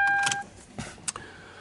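Power window motor of a Hyundai Genesis Coupe running briefly with a steady whine, followed by a few soft clunks and clicks as the glass stops, close and clear.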